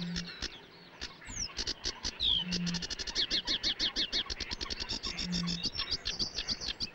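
Sedge warbler singing in a reed bed, a rapid varied run of chirps, trills and buzzy notes, close and continuous, with a few low hums in the background.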